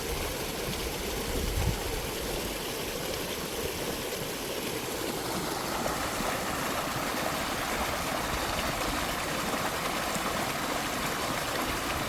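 Water is released from a fish pond in Kenya, a steady, loud rush of flowing water that runs continuously without pause, with a brief low thump early on.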